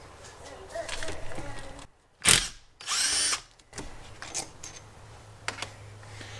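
A power tool whirs in two short bursts while removing the pump bolts on an Allison 1000 transmission from a Duramax, set against workshop rustling and light clicking.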